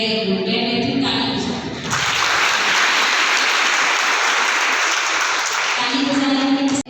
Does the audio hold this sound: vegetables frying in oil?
no